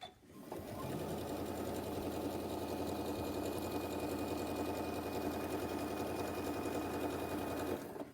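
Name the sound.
sewing machine stitching a table mat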